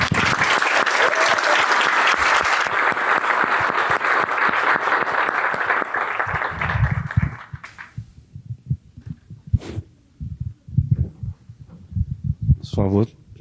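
Audience applause at an evening literary talk fills the first half loudly and evenly, then fades out, followed by someone speaking into a microphone with pauses.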